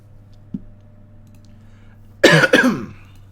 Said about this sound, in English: I meant to mute my cough.